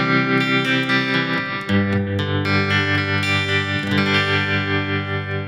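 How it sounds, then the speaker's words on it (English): Electric guitar with light reverb and delay, ringing chords that change a few times and leave lingering tails, loud and upfront with no one talking. "There's a little bit of reverb and a little bit of delay in there."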